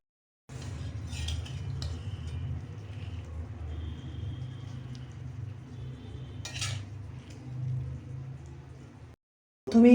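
Metal serving utensil scraping and clinking inside a pot of homemade potato biryani with chicken, a steady close scrape under a low background hum, with a brief sharp clatter near the end.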